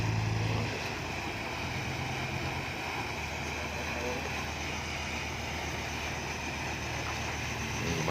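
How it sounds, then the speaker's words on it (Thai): A tugboat engine drones steadily as the boat approaches on the Pattani River, a low rumbling hum that stays fairly constant, with broadband water and wind noise; a voice may briefly speak near the start. "นี่ครับกำลังแล่นมาต่อหน้าเรานะครับท่านผู้ชมครับ เรือโยง พลังกำลังมหาศาลครับนี่ครับมาแล้วครับ"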